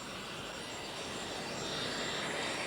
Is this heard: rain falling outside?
no